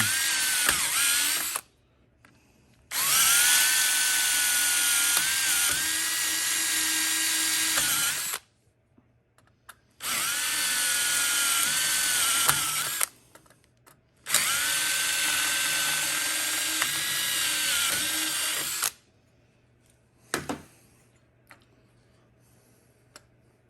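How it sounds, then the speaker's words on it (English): A power drill whines loudly in three long bursts separated by short silences, close up, drilling out Subaru WRX tumble generator valves, followed by a few faint clicks. "Just drill them out in 10 seconds"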